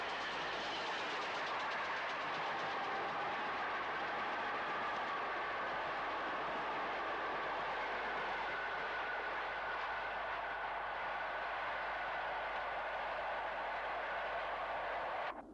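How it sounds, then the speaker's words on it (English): Steam locomotives Hagley Hall and Blackfriars 5000 hauling an intercity train at Basschurch in 1979, a steady sustained rumble of running train and wheels, fairly distant and constant for the whole stretch before cutting off at the end. "The 2nd of September 1979 saw Hagley Hall and Blackfriars 5000 on the intercity train at Basschurch."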